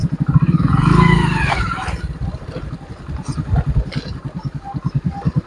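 Motorcycle engine running while the bike rides over an uneven, bumpy road, a steady pulsing engine note with a brief louder swell early on and continuous rattling vibration throughout.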